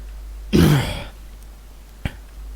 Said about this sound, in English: Had to clear my throat there for a second.